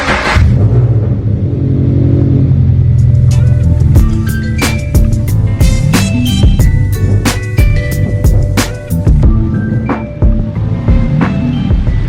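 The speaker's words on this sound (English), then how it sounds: "I'm just going to shut up and move the BRZ out of the garage just so we have some more space to work with in the garage." A Subaru BRZ pulls out of a garage, its engine a low steady rumble close by, with a run of sharp clicks and ticks over the idle in the second half.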